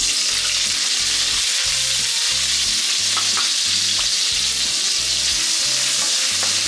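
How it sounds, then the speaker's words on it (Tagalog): Ginger sizzles loudly in oil in a pan, a dense continuous frying hiss with a few stirring knocks, close up and with no voices. "Kuha lang og gamay mantika ato sa akong gikuan kanina gipirituhan. So akong unahon og gisal is ang ginger."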